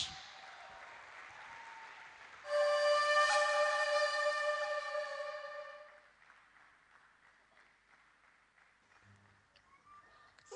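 Applause from a summit audience welcoming a speaker to the stage, a loud burst of clapping that rises sharply, holds for a few seconds, then thins out and fades into a quieter hall.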